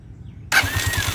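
A motorcycle under repair starts at the push of its electric starter button. Silence breaks into a sudden loud catch, and the engine settles straight into a close, steady, throbbing idle.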